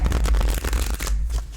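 Oracle cards being shuffled by hand, a dense papery riffling and flapping that runs steadily close up for about a second before thinning out, with no voice over it.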